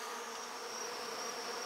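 A dense swarm of bees drones steadily during a bee removal, a close, continuous buzzing hum with no pauses and no voices over it.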